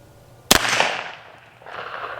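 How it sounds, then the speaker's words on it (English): A single sharp Beretta 9mm pistol shot fired at a wall and freezer, one loud crack followed by a rushing echo that fades, then a softer rustle near the end. "All right, next up, the Beretta 9mm."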